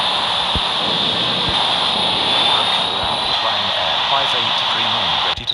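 A Ryanair jet aircraft during pushback at an airport gives off a steady, loud engine roar with a high whine. The roar runs unbroken for several seconds, and a brief clunk comes at the end.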